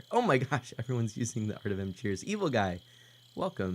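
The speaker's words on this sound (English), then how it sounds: "I just recorded some crickets chirping and early morning sounds, things like that" Crickets chirp in a steady high trill through early morning ambience, a constant faint layer beneath near, continuous talk.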